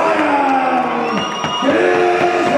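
Boxing crowd roaring and cheering for fighter Ryan Gizzi at his ring entrance, a loud sustained wall of shouts and whoops with a few voices rising above the din.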